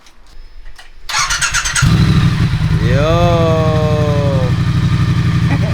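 A new motorcycle's engine cranks and fires up, then settles into a loud, steady idle close by, with a short rising rev partway through; a voice speaks briefly before it starts.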